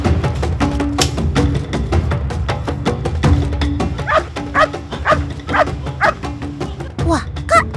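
Kamra, a tracking dog, barks and yips repeatedly in a quick irregular series, fairly close, over steady background noise with occasional voices.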